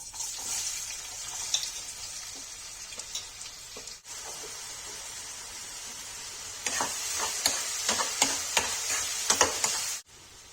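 Chilies for Kashmiri rajma hiss and sizzle in hot oil, a steady close frying crackle with scattered pops and spoon scrapes, briefly cut off twice.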